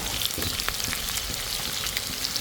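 Onions sizzle and fry steadily in a hot pan for a breakfast dish, a dense continuous crackle with small pops close by, no voices.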